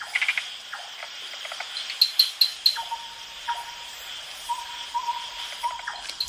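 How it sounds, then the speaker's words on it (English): Tree frogs call at night in a Thai rainforest, with repeated short chirps and steady trills over a dense insect chorus. The calls are moderately near and keep a loose, irregular rhythm. "various tree frogs"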